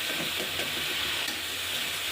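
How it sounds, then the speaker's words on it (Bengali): Spice paste of tomato, green chili and cashew paste being fried and stirred in a pan, a close, steady hissing sizzle that continues throughout without speech. "আবার একটু কষিয়ে নেব।"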